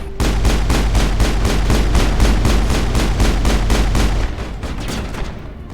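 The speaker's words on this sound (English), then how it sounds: "Oh, that grenade's about to go off." Rapid, steady bursts of explosive gunfire-like blasts from a Mass Effect game scene, loud and continuous for several seconds before easing slightly near the end, with no talking over it.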